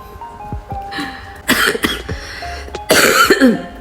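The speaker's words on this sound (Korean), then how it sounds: "라고 말하면서 가리기침 하는 거 우습지만" A woman coughs and clears her throat in a few short, throaty bursts, close and fairly loud, between quieter stretches with faint background sounds.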